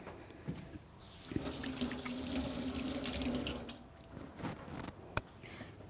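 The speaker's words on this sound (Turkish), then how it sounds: "Şöyle bir elimi yıkayayım hemen." Tap water runs steadily into a kitchen sink while hands are washed under it, a continuous splashing flow for several seconds with a sharp clunk near the end.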